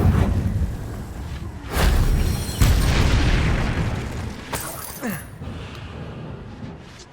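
Spell explosions from the Confringo fire curse in the Hogwarts Legacy video game, several loud booming bursts with crackling debris, mixed with a speaking voice.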